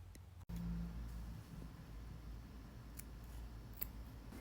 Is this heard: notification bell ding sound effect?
no